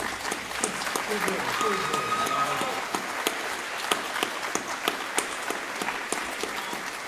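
A standing audience at a middle school awards day gives sustained applause, dense and fairly loud, with individual sharp claps standing out through the steady wash of hands.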